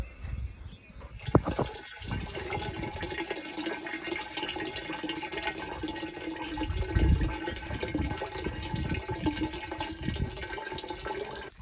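Water pours out of a tipped camping cooler at a riverside campsite, a steady gushing splash that runs on for several seconds, close and moderately loud, with a knock near the start.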